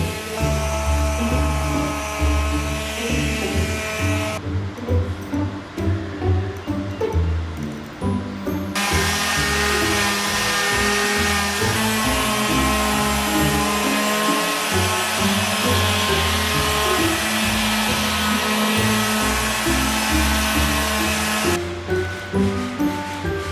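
An orbital sander works over old teak decking, giving a loud, close, steady motor whine with a shifting grinding texture. The tone drops out briefly twice as the tool lifts or pauses, then resumes.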